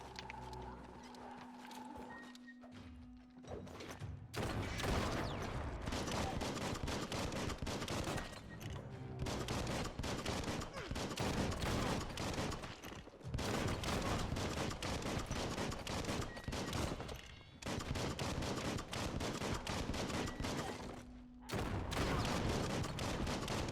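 A gun fires in the video game Biomutant in long, sustained bursts of rapid gunfire, loud and close. The bursts are broken by a few short pauses, with occasional game effects underneath.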